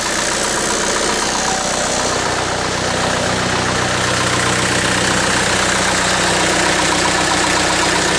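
Mitsubishi Canter 4WD truck engine running steadily at idle with no glow plugs, a loud, close, even diesel rumble and clatter throughout.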